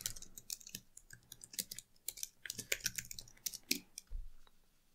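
Quiet, close typing on a computer keyboard for a Markdown editor on macOS, a quick irregular patter of crisp key clicks with brief pauses, no voices.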